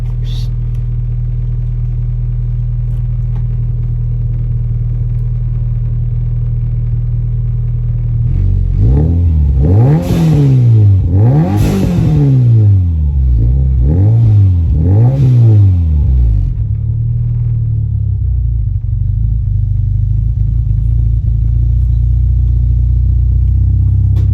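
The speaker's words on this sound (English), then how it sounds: "Let me give it a quick rev for you." A Subaru Liberty engine with a loud exhaust, idling with a deep rumble, then blipped through four quick revs that surge and fall back before settling to idle again, close and loud with no talk.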